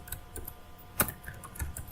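Someone types an SQL query on a computer keyboard, producing quiet, uneven key taps close up, with one sharper keystroke in the middle and no speech.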